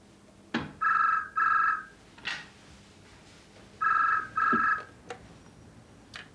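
A telephone rings in an indoor setting with two pairs of double trills separated by a pause, clear and moderately loud, with small knocks and handling sounds in between.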